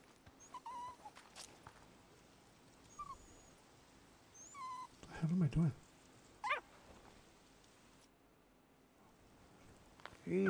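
A puppy whimpers and yelps in the video game Days Gone, with short high whines scattered through a quiet outdoor ambience and a few louder bursts near the middle, while someone talks intermittently.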